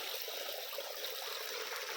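Water flows steadily from a village well in Gujarat after unseasonal rain, a soft continuous trickling and rushing at moderate distance with no voices.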